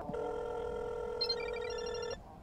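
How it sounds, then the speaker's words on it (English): A cell phone left behind rings in the Parasocial horror video game, a loud tonal ringtone melody that plays steadily for about two seconds and then cuts off, with no voices over it. "She left her phone here, bro. I think it's ringtone."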